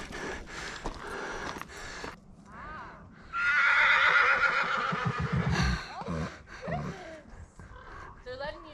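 Horses neigh close by, one long loud whinny in the middle with shorter snorts and calls around it, while people talk in the background.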